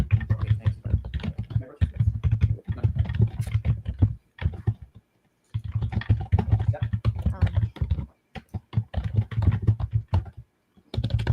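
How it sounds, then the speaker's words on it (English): Rapid, irregular keyboard typing, close and fairly loud, runs almost continuously in bursts with brief pauses, at a courtroom trial with no speech over it. "Holy keyboard, Marissa."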